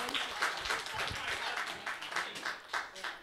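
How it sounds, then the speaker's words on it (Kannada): A quiz show audience gives a short round of applause for a contestant who answered correctly, the claps coming in quick, fairly soft bursts mixed with murmuring voices. "ಲಾವಣ್ಯ ಅವ್ರಿಗೊಂದು ದೊಡ್ಡ ಚಪ್ಪಾಳೆ ಜೊತೆಗೆ ಒಂದು ಚಾಕ್ಲೇಟ್"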